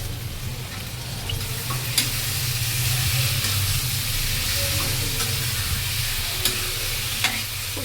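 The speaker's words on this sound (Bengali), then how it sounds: "খুব সুন্দর করে আমি কষিয়ে নেবো।" Ground spices and turmeric sautéing in a pan, a continuous loud sizzle with scraping stirring strokes and occasional clinks of a spoon, close up with no talk.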